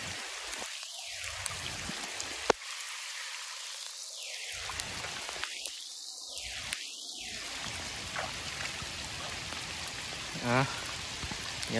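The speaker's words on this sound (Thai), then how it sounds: "โอ้ฝนลงแล้วครับ" Rain falls steadily outdoors around a flooded pond where fish are being netted, a continuous close hiss of drops on surfaces with a few faint thuds and movements but no clear talking.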